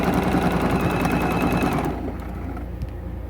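A sewing machine stitching T-shirt quilt pieces, running in a fast steady rapid-fire whir for about two seconds before slowing and stopping, leaving a quieter hum.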